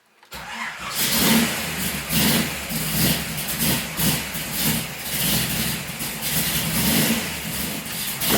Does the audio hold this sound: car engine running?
yes